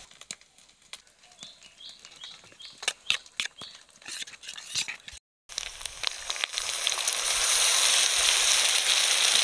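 Ginger garlic paste hitting hot oil with onions, a sudden loud, steady sizzle that swells and continues after a run of scattered clicks and taps.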